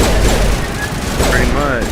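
Gunfire in Mass Effect Legendary Edition, aimed at enemies from behind cover, crackles as a dense, loud volley of rapid shots, with a voice talking over it.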